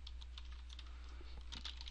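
Quick, light clicks of typing on a computer keyboard patter unevenly, faint and close, over a low steady hum with no speech.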